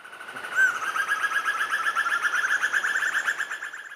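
A black-and-yellow broadbill calls in a Borneo forest at first light: a rapid, steady trill of rising notes runs for several seconds after a brief sharp onset, fairly loud and clear against quiet surroundings.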